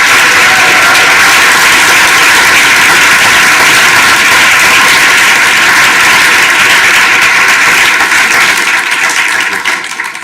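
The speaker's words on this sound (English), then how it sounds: "Let's have another round of applause for them, please." A conference audience gives a panel a long, loud, sustained round of applause, a dense roar of clapping that holds steady and only begins easing off at the very end.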